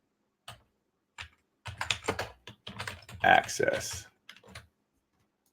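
Fingers type on a computer keyboard in quick irregular bursts of clicking keys, close and crisp, with gaps of silence between runs and a brief spoken word mixed in.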